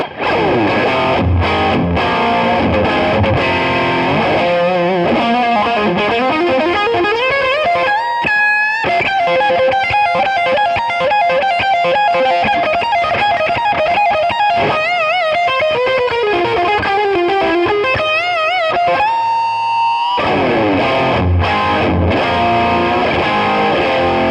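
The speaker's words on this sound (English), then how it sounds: "Now let's rock out a little bit and play some riffs" Electric guitar played through a distorted amp on the bridge pickup, heavy crunchy riffs with sustained bent lead notes and chugging palm-muted passages, loud and continuous with no voices.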